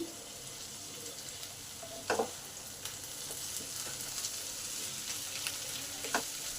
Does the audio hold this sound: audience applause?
no